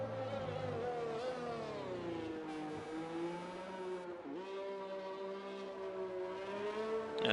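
A Formula 1 car on soft tyres in an F1 video game, weaving on track at the Brazil round, gives a continuous high-pitched engine whine whose pitch rises and falls with throttle changes, steady and fairly quiet with no talk.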